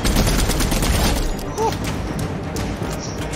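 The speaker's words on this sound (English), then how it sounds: "Oh, I just accidentally fired a sniper rifle." Gunfire in the video game Fortnite, from a sniper rifle: loud, dense bursts of shots and impacts crowd the scene with a brief tonal game cue in the middle, over a noisy mix.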